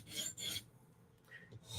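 A knife blade's belly is drawn across a sharpening surface in a few quick, close rasping strokes, with a short gap between passes.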